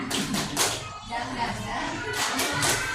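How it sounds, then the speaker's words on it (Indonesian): Several bursts of group clapping in a rhythmic "tepuk semangat" routine at a teachers' training session in Indonesia, a few separated claps close by, with voices chanting or talking underneath. "boleh tepuk semangat semuanya"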